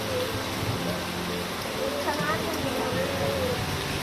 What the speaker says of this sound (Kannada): ಮುಂಗಾರು ಮಳೆ ಸ್ಟಾರ್ಟ್ ಆಗುತ್ತಪ್ಪ